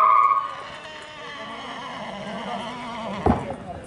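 A Marwari horse at a horse show in Faridkot gives a loud, close whinny at the start. Steady commentary in a voice runs underneath, with a brief thump near the end.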